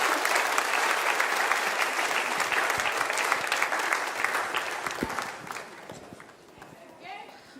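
An audience gives a sustained round of applause at a church talk on Philippians, loud and dense at first and then thinning out, with voices emerging near the end.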